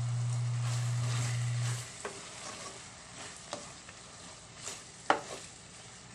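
Ginisang ampalaya with pork is stirred in a frying pan, giving a steady sizzle with scattered scraping clicks of the spatula and one sharp knock near the end; there is no talk.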